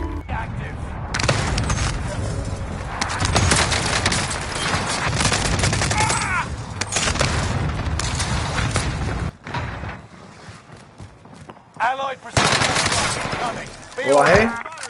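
PPSh submachine gun fired from the hip in Warzone, loud sustained automatic bursts in long runs, broken by short pauses and a few later spurts, with someone talking over parts of it.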